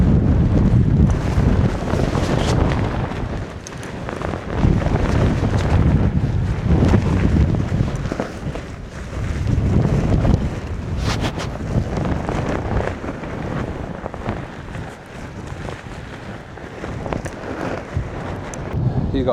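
Strong wind buffets the microphone while a tent is pitched outdoors, a loud gusting roar that surges and eases in waves, with a voice faintly audible beneath it.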